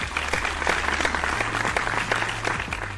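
Sustained applause from a seminar audience, dense steady clapping close and loud, filling the whole stretch without a break.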